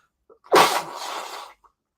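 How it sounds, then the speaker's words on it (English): A single loud sneeze, sharp and close, with a quick intake of breath before it and a brief breathy tail. "I gotta sneeze."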